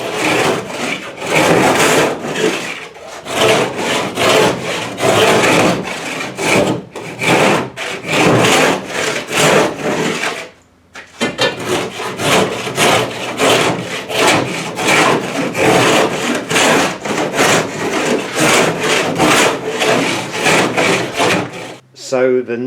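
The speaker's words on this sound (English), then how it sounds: "start smoothing down the sides, get it all level. Get rid of the big ridge of fiberglass which is sticking up around the front" Hand sanding of fiberglass on the sides of a dinghy hull, with loud, close, continuous scraping strokes in a quick rhythm that pause briefly midway and near the end.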